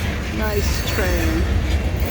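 A train rumbles past close by at night, a steady low rolling noise with brief rising whistle- or squeal-like tones over it.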